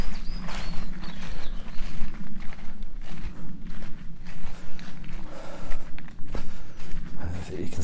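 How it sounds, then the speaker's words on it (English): Footsteps kick through dry autumn leaves beside a dry gully near the River Ystwyth, a steady close crunching and rustling that runs throughout. "The lovely sound of kicking leaves in the autumn."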